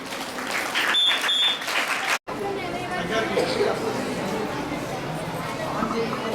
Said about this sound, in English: Please welcome her with your clap.